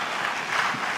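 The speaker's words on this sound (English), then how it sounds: "Can we please hold the applause?" An audience at a televised presidential debate applauds, making a brief, dense wash of clapping that stays steady for about a second.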